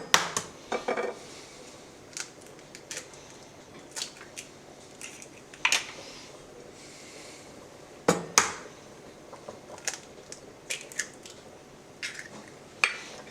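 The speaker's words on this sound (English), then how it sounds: "we're going to crack the eggs into the cheese" Eggs cracked into grated cheese and mixed in a bowl for spaghetti carbonara: sharp taps and clicks at irregular intervals with soft squishing between, close and fairly quiet, no voices.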